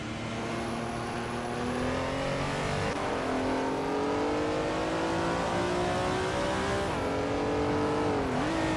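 Race cars roar through a video game race, engines revving and shifting pitch as they accelerate and pass, with a steady loud drone and occasional tire squeal throughout.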